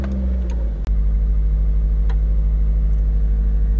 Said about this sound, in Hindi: Let us start up the engine.